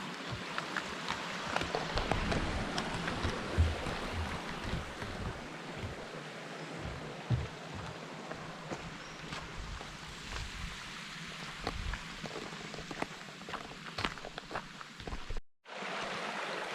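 Broadband rushing of river water flowing beside a trail near the Chorrón waterfall in Villamayor, Piloña, Asturias, steady and fairly close, with faint wind buffeting and scattered footsteps or handling knocks, and a brief dropout near the end.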